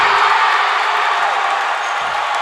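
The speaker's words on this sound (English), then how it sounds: "you can hear which team is winning this game right now, as the Gyrenes crowd is unbelievably electric" A basketball championship crowd roars loudly and continuously for the Gyrenes, a dense wall of cheering filling the arena.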